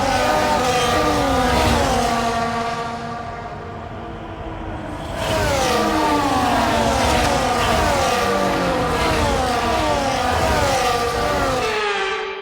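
Formula 1 cars rev and roll around the track on the formation lap in the F1 24 racing game, a loud dense engine drone with rising and falling pitch sweeps, briefly quieter midway before swelling again.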